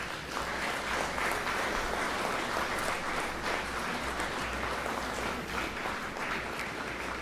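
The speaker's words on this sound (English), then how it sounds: "So graduates, would you please stand, turn to the audience, and give them a standing ovation." A college graduation ceremony audience gets a standing ovation: dense, sustained applause from a large crowd fills the hall at a steady level with no pauses, and no talking comes through.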